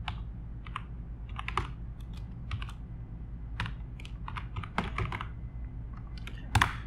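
Python code is typed on a computer keyboard in quick, irregular bursts of close key clicks, with a few louder taps and brief pauses between runs.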